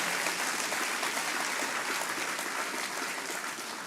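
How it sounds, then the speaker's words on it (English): An audience at a health and vitality conference applauds, a steady wash of clapping from many hands that stays even and fairly distant throughout. "So can we give a round of applause to Jesus once again?"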